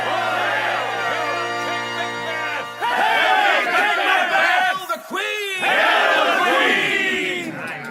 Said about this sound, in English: Macbeth's loyal followers cheer him and his queen as they return from their coronation